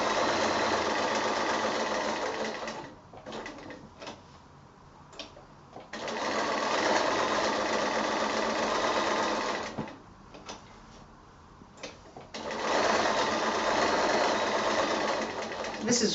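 Sewing machine stitching a quilted hexagon mug mat, a loud, close, steady mechanical whir that stops twice for a few seconds when the machine pauses, then runs again.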